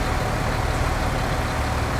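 A tractor engine in Farming Simulator 19 carrying front and rear mowers and extra weight runs at a steady, low, heavy drone, continuous and unbroken with no talk over it.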